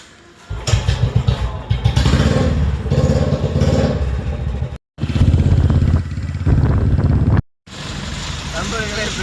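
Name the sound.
motorcycle riding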